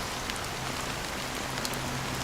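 Rain falls in a video game cutscene as a constant close patter and hiss of drops on hard surfaces, with a faint low hum beneath and no talking.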